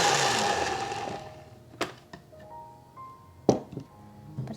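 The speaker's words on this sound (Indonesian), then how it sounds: "ini kita blender sampai halus" A kitchen blender grinds spice paste for soto betawi, whirring loudly for about a second before winding down, followed by scattered clicks and taps of the jar and lid in a quiet room.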